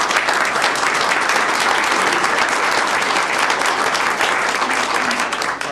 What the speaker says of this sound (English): That deserves certainly a round of applause for our teachers.